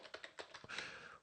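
Keys clatter on a computer keyboard in a short burst of separate taps, close and fairly quiet, ending in a longer smeared run of keystrokes.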